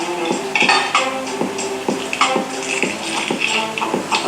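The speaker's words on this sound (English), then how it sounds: "I have here some onions that I'm going to cut" A knife chops onions on a cutting board in a kitchen, a steady series of crisp, close knocks about twice a second.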